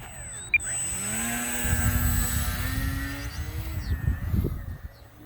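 A Value Hobby G-202 RC plane takes off as its electric motor revs up into a rising, whining buzz that holds steady and then starts to drift farther away, with wind rumble outdoors.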